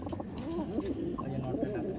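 Punjab pigeons at a pigeon loft give low, rolling coos that repeat close by, with a person talking over them.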